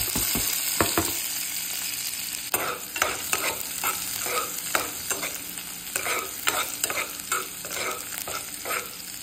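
Garlic sizzling in melted butter in a frying pan, a constant hot hiss overlaid with a brisk run of repeated spatula stirs and scrapes, close and loud, no voices.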